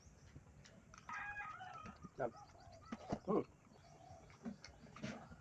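Chickens cluck and squawk in scattered short calls against a quiet background, fairly faint and a little distant.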